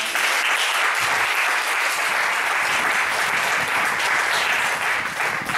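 A church congregation bursts into sustained, loud applause that fills the whole stretch evenly, with dense clapping and a few raised voices mixed into the crowd noise.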